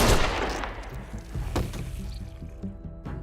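A single loud gunshot opens The Walking Dead: A New Frontier scene, followed by a decaying tail and softer thuds and movement sounds.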